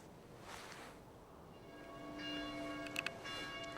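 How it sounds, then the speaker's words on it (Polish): A church bell at the Sanctuary of Blessed Aniela Salawa in Sieprawie, switched on by remote control, rings out with a sustained metallic tone that swells gradually, with a couple of sharper strikes near the end, heard at moderate distance. "dlatego teraz przy właśnie pomocy tego nowoczesnego pilota włączę dzwon"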